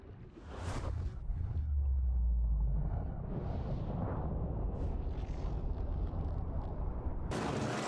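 Aurora ship exploding in the Subnautica video game: a loud, deep, rumbling blast that roars on steadily for several seconds, then ends in a sudden sharp burst of noise, with no talking.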